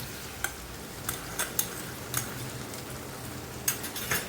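Whisked sour yogurt thinned with water goes into a vegetarian green jackfruit curry and is stirred in a pan: scattered soft scrapes and clicks of a spoon over a faint, steady sizzle, fairly quiet and close.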